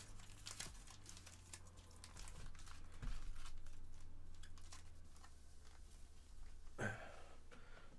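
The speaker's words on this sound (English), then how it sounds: "I'm going to shuffle them up real quick" Foil booster packs of Pokemon Shiny Star V, a Japanese set, being shuffled by hand: close, steady crinkling and rustling of foil wrappers, with one sharper crackle near the end and no talking.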